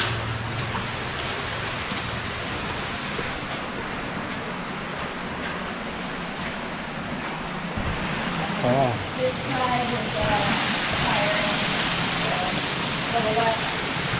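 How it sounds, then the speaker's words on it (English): Waterfall on a hiking trail: a continuous rushing hiss of falling water, fairly close and steady, with a person's voice talking over it and some brief birdlike chirps later. "Ends in this waterfall"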